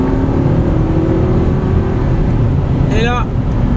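A car accelerating during a driving lesson, a steady loud engine drone throughout with a brief rising whine near the end, heard from inside the cabin.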